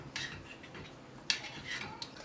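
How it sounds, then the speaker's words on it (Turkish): A spoon stirs chocolate melting into warm cream in a pot on a stovetop, giving a few soft, scattered metallic clinks and scrapes against a quiet background. "Karıştırarak eritelim."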